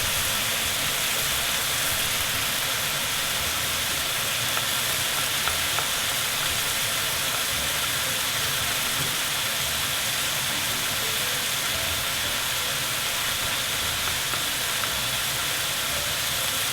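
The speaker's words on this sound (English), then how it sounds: "Turn it so that you've got some oil underneath it. So that's just searing off." Pork tenderloin sears in hot oil in a pan, giving a steady, close, broadband sizzle and hiss that runs continuously without talk.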